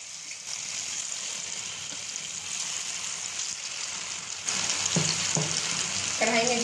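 Dahi pakora batter dropped by small spoonfuls into hot oil in a kadhai, giving a steady, close, loud frying hiss that grows louder midway, with a few soft plops and clinks as more batter goes in.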